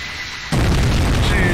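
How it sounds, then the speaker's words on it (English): Explosion in the Splinter Cell Chaos Theory versus multiplayer game: after half a second of quiet, a loud, sudden broadband boom erupts and sustains as a dense roaring rumble through the rest of the moment. "I saw what caused the explosion."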